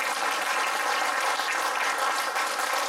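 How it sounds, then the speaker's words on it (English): A church congregation claps together in praise, a dense, steady wash of hand clapping that stays loud and even throughout without speech. "give the Lord a hand clap of praise"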